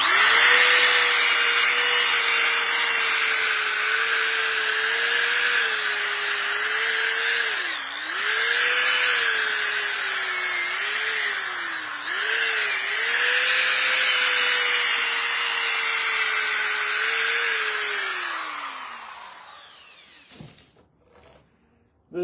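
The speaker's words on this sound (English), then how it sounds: "This sander is super aggressive, and it can be a little difficult to handle." An aggressive power sander softens the sharp edges of a build piece, grinding loudly and continuously up close with a wavering motor drone for about twenty seconds before it winds down and stops.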